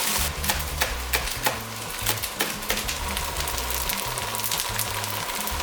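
Egg and vegetable udon noodles frying over high heat in a pan, a dense steady sizzle with crackling pops and occasional scraping or tossing knocks, close and alone with a low rhythmic hum beneath.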